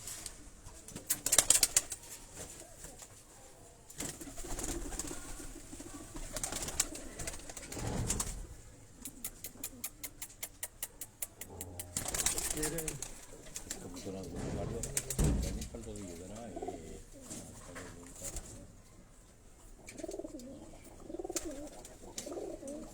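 Pigeons coo softly, with bursts of wing flapping and rustling, while a person talks intermittently nearby.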